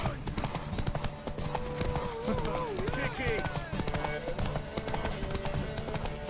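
Rapid clip-clop of galloping hooves in The Witcher 3: Wild Hunt amid a busy game soundscape with music and shouting voices, steady and continuous throughout.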